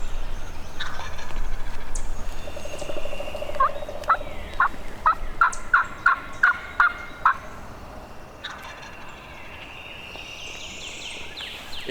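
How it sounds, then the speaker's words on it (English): A wild turkey gobbles close by in Alabama woods, a fast rattling burst of about eight sharp notes in a row over quiet outdoor ambience with faint insects. "a turkey gobbles directly behind them"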